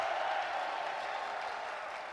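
A large crowd at an esports event cheers and applauds in a continuous, dense roar that stays steady and fairly loud, slowly easing off toward the end.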